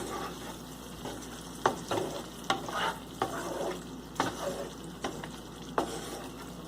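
Red pasta sauce with about a quarter cup of milk cooks and is stirred in a pan, giving a steady low simmering sizzle broken by regular, close scraping strokes of the spoon roughly every second.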